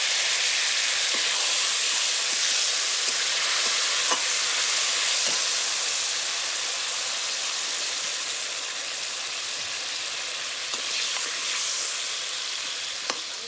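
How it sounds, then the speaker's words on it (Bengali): Spice paste with salt and turmeric sizzles steadily in a pan after a splash of water, for a Bengali village-style katla fish curry with potato and pointed gourd, with occasional scrapes and taps of stirring throughout and no talk. "এবার দিয়ে দেবো সামান্য একটু জল, মশলাটা ভালো করে কষে নেবে"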